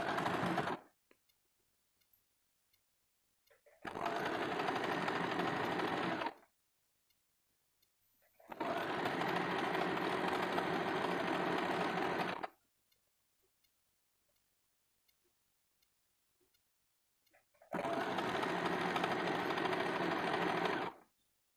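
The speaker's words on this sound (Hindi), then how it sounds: "तो यहाँ से इसको सिलाई कर देते हैं।" Sewing machine stitching a waistband onto a double katori blouse, running in three sustained bursts of several seconds each with quiet pauses between, close and steady with no talk.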